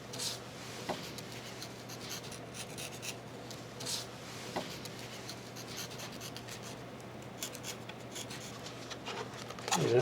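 Sanding or scraping the edge of a foam board part for an FT P-51 Mustang model airplane to form a bevel: a steady, close, soft rasping rub that continues throughout, with no talking.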